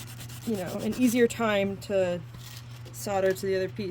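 A small metal piece for a jewelry bezel setting is sanded by hand, short gritty rubbing strokes heard close up beneath steady talking.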